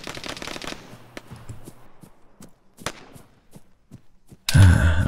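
Video game gunfire in the military shooter Argo: a dense burst of rapid shots at the start, then scattered sharp single cracks, ending in a loud close barrage.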